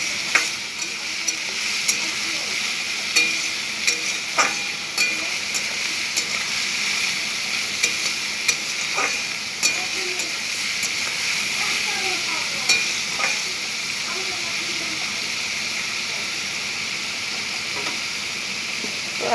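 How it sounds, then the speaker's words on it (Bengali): Food sizzles in a pan while a spatula stirs it, giving a steady frying hiss broken by frequent scraping clicks and taps of the utensil, close up and with no talking. "খুন্তি দিয়ে নাড়াচাড়া করছি"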